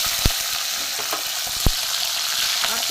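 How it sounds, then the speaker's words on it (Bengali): Garlic, green chili and black cumin seeds frying in plenty of mustard oil, a steady close sizzle broken by a few sharp clicks of a utensil against the pan. "লাল করে রসুন আর কাঁচা লঙ্কাটা একটু ভালো করে ভেজে নেব।"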